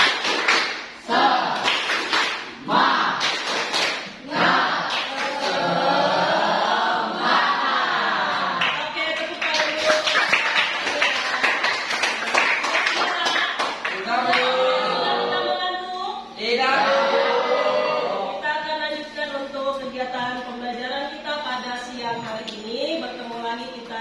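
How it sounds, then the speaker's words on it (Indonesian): Eighth-grade math class does a rhythmic 'tepuk semangat' spirit clap, sharp patterned claps opening a long stretch of loud group chanting and shouting voices with intermittent taps and thumps, close and continuous. "kita mulai tepuk semangat"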